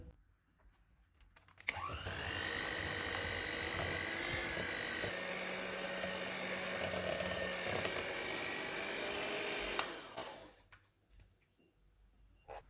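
An electric mixer whirs loudly and continuously for about eight seconds, blending banana paste with condensed milk for ice cream, then winds down to quiet.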